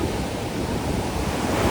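Sea waves breaking on a beach in Goa, a continuous close rush of surf with wind buffeting the microphone, no voices.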